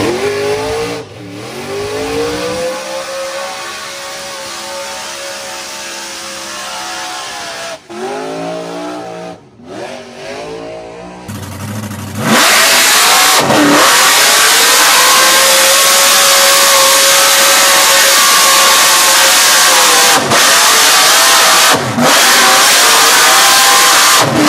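A car doing a burnout on Skid Row at Summernats revs hard and loud, its engine note rising and falling. After a brief dip it roars into a sustained full-throttle scream with tire squeal, close and overwhelming throughout.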